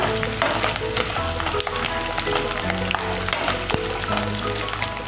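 Boiled potato pieces roasting in a hot pan for a vrat meal, giving a steady, close frying sizzle with soft crackle throughout and no voices.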